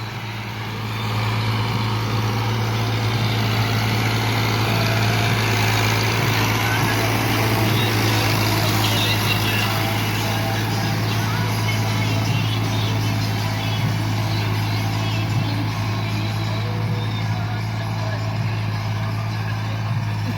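A tractor engine runs while ploughing a village field, giving a loud, steady, close diesel drone with a constant low hum and no breaks for the full length.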